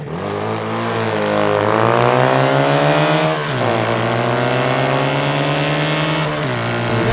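A car on an autocross course holds a loud, close engine drone whose pitch climbs, drops sharply around midway, then rises again before another dip, with no talking.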